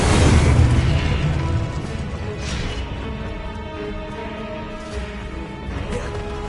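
Incendio fire spell from the Hogwarts Legacy video game: a heavy booming burst opens, then a fading roar of flame with lighter crackles and a faint tonal hum beneath.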